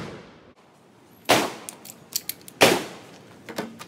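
A rifled 12 gauge shotgun slug fired at a steel body-armor plate outdoors: two sharp, loud gunshot cracks about a second apart, each followed by brief clatter and echo, with no speech.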